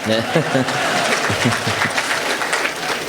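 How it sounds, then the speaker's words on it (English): An audience claps in a steady round of applause with a voice talking over it throughout. "round of applause from me for that great question"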